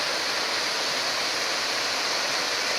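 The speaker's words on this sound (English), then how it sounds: "that's plenty of water flowing down, and sounds very pretty as well" Waterfall in Sri Lanka pouring heavily: a loud, continuous broadband rush of falling water, close and steady throughout with no voices.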